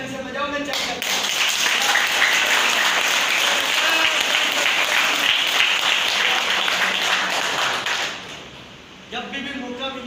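An audience claps steadily at a live business seminar, a dense, loud wash of applause lasting about eight seconds before fading, with a brief voice and scattered claps near the end.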